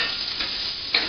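Vegetables for a frittata sizzle in a pan with no oil or butter, a close, steady crackling hiss with a small flare of spitting near the end.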